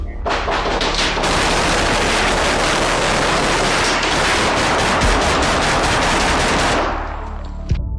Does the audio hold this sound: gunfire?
yes